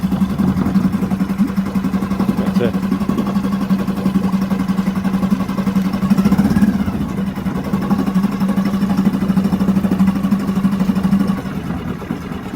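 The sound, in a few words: outboard boat engine running in a test tank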